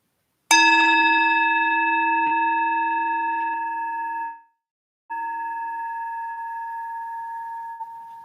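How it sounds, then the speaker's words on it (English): A meditation bell struck once and left to ring, a clear sustained metallic tone slowly fading, cut off briefly and then resuming as a steady ring in a quiet room. "When you hear the next bell, use this bell to draw a few deep breaths in"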